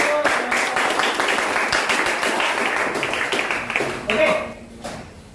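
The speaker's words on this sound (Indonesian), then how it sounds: "tepuk tangan untuk" Classroom audience of teachers in a training session clapping for a presenting group, a brisk round of applause with scattered claps that thins out near the end.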